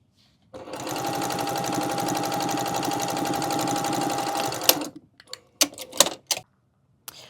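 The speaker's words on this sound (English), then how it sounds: "sew the shoulder seams on both the outer and on the lining" A sewing machine runs close and fast for about four seconds, stitching the shoulder seams of a quilted cotton puffer vest with a rapid, even whir. Several sharp clicks and clacks of handling the fabric and machine follow.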